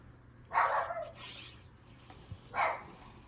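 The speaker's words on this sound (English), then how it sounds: "And there's the dog." A dog barks a few times at a moderate distance, two yips close together, then a pause and one more bark over faint hum.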